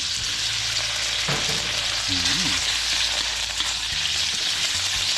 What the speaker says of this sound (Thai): เตรียมเนื้อจระเข้นะครับลงไปผัดในน้ำมันนะครับ